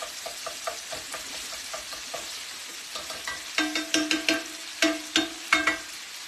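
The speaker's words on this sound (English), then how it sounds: "we're just going to work our sausage until it's all browned up and cooked through" Sausage sizzling as it browns in a pan while a spoon or spatula scrapes and stirs it in a steady rhythm, the scraping growing louder and more frequent, with no talk.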